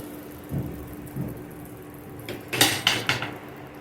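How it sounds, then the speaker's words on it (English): Rice going into jollof sauce in a cooking pot: two soft knocks, then a quick cluster of sharp metallic clanks from the pot and utensil, close and fairly loud. "So now we're gonna add the rice."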